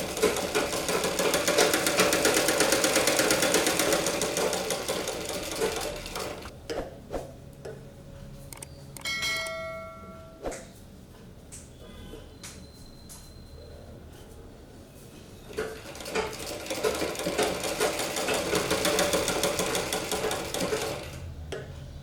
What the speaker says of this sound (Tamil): இந்த இங்கே ஸ்டார்ட் பண்ணி அந்த எண்டு அந்த பித்தான் பெட்டி வரைக்கும் நீங்கள் தைச்சிடணும்.